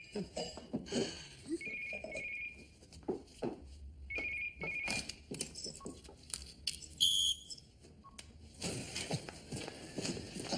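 Home landline telephone ringing indoors, with bursts of trilling ring repeating over several seconds amid clattering movement and footsteps, fairly faint.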